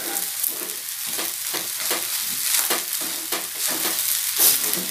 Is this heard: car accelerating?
no